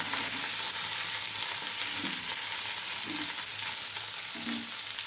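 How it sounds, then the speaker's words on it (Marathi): Potatoes sizzle steadily in a hot pan on a gas stove, with soft scraping stirs recurring every second or so over the constant frying hiss, close and moderately quiet with no talking. "गॅस थोडा आपण बारीक करूया आणि ही बटाटा खूप छान असं हलवून घ्यायचं आहे"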